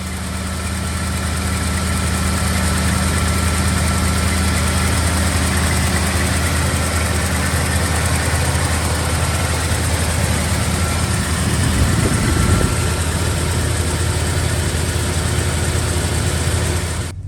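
A 1971 Ford Sports Custom truck engine idles steadily and loudly from inside the cab, a continuous low rumble with vibration that shifts briefly around the middle before settling back.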